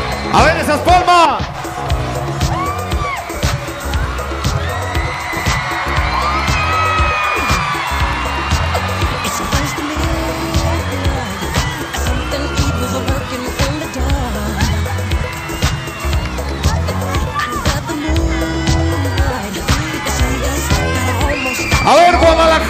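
Lucha libre arena crowd in Guadalajara keeps up a steady roar of clapping, cheering and whoops, a continuous loud mass of noise with an announcer's voice over it.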